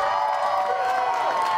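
A gym crowd cheers and shouts continuously at a high school send-off for the cheer team at Jackson High School, a dense, steady roar of voices.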